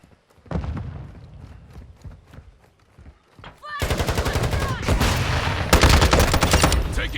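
Gunfire in a Modern Warfare 2 multiplayer match: scattered loud single shots at first, then after a brief lull a dense, close burst of rapid automatic fire that continues steadily to the end.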